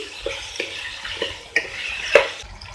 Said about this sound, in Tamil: இதையும் நல்லா வதக்கி விடுங்க இதோட சேர்த்து